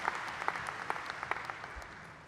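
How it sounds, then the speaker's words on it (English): Applause from a college commencement crowd, a dense patter of many hands clapping at an even level, fading slightly toward the end. "How about another round of applause?"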